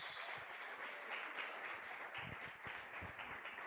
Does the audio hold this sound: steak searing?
no